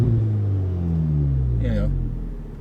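A deep, steady exhaust rumble from an Audi S3 (8V) in sport mode drones close by, its low tone gently shifting as the car cruises along.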